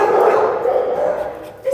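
A dog at a county animal shelter gives a loud, close, drawn-out bark or whine-like call lasting over a second, with a brief second call at the end.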